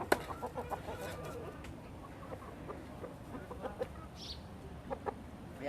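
Chickens clucking in a yard, a scattered series of soft close clucks at an uneven pace over faint background noise.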